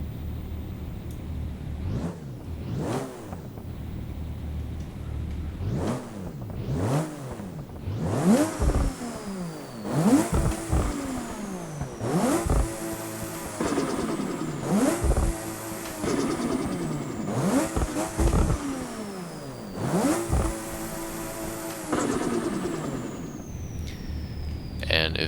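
Video game car engine revved hard several times in a row, each rise sweeping up to a high scream and dropping back, close and loud, with a turbo-like whine and some talk at moments.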